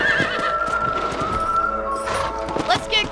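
A horse whinnies and neighs over a continuous bed of hoofbeats and ambient game sound in Red Dead Redemption, fairly loud and close.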